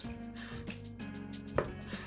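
A knife cuts cleaned, twice-boiled honeycomb beef tripe into bite-size pieces on a board, a few soft distinct chops with a light clink, close and quiet with no talking.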